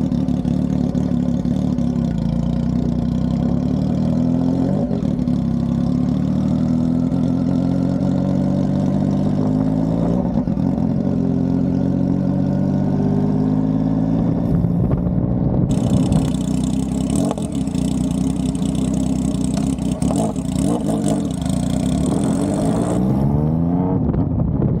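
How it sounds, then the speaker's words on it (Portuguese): A Yamaha MT-09 motorcycle with its exhaust tip removed idles and revs close by, a deep, loud engine roar that rises and falls in pitch over about twenty-five seconds with no talk. "Ver como é que ficou o ronco dela"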